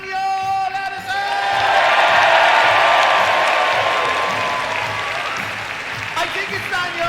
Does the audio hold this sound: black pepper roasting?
no